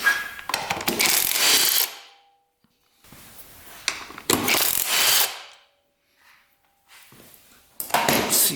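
Parts being pulled off a motorcycle that sat unused for 33 years as the air box is loosened and the carburetors are worked free, giving bursts of clanking metal and tool noise separated by short silent gaps, close by with no talking.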